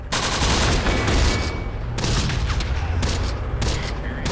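Airstrike explosions in the war game Close Combat: The Bloody First roll out as loud, dense booms mixed with crackling bursts of gunfire, swelling and fading in several waves with no voices.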